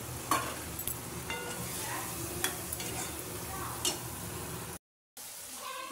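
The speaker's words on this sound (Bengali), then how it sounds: "দেখো ভালো করে আমি কষিয়ে নিচ্ছি, নেড়ে চেড়ে সামান্য একটু জল দিয়ে দিয়ে কষিয়ে নেব।" Elephant foot yam mash being sautéed and stirred in a pan, with a steady soft sizzle and repeated scraping strokes of the spoon, close by, cutting out briefly near the end.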